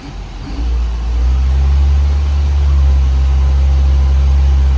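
A Mini Cooper engine holds a steady, loud, deep drone at around 2000 RPM, with no talk over it.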